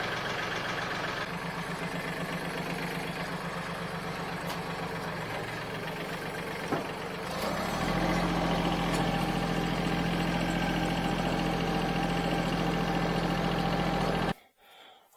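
A Mahindra 1526 tractor engine idles steadily after starting, a continuous low rumble with a rhythmic knock that deepens and grows louder partway through, then cuts off abruptly near the end.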